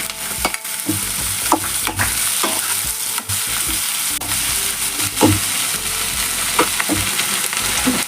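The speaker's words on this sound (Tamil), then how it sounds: "வெங்காயம் வதங்கட்டும். வெங்காயம் நல்லா வதங்கிடுச்சு." Onions sautéing in oil with chopped tomatoes being added for an okra curry, a loud continuous sizzle broken by repeated scraping stirs and clatter of the spoon against the pan, close up with no speech.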